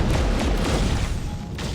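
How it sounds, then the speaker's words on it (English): A heavy, rumbling missile explosion in the Freelancer space combat game, with a sustained, dense boom and roar that fills the whole clip at close range and high volume. "Oh, why'd that missile have to miss?"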